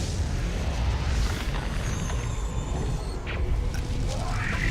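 An ion cannon strike from Command & Conquer 3: Kane's Wrath, a loud rumbling blast with sweeping energy tones and crackles layered on top, sustained over several seconds.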